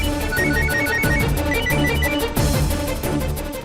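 A phone ringtone plays loudly in a repeating electronic pattern, ringing continuously with no voices over it.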